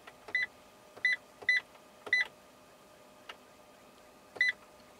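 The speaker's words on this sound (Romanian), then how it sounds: "Buzzerul este acel sunet făcut când nu spui centura de siguranță." Seatbelt warning buzzer in a Fiat Doblo Panorama 1.6 Multijet, a series of short, quiet electronic beeps in small clusters repeating at irregular intervals over a soft background.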